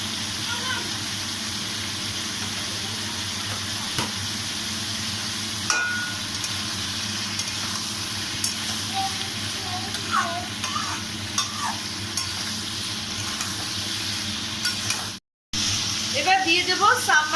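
Curry leaves and onion fry in hot oil while being stirred: a steady, close sizzle with scraping strokes runs throughout. It cuts out briefly near the end, and faint voices sit underneath.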